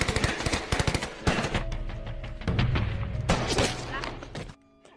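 Soldiers trade gunfire in a war film set in the Papuan jungle, with bursts of automatic fire and loud booming shots rattling densely through the first seconds before cutting off near the end, over a low rumbling score.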